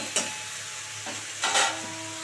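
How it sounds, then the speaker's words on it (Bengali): Shrimp, flat beans, eggplant and spinach stirred in a frying pan, a few scraping strokes over a steady low sizzle, with a louder burst of stirring near the end. "এবার একটু নাড়াচাড়া করে দেখি"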